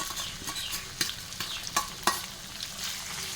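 Steady sizzling of spices frying in a hot pan for a goat meat dish, with a few sharp scrapes and taps as they are stirred, close and without talk.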